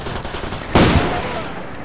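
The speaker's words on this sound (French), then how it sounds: "Un tir de sniper." A sniper rifle shot in Far Cry 2 cracks out once, loud and sharp, amid steady background game ambience, then trails off into a lingering rumble.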